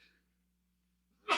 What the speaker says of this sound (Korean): 갑자기 재채기가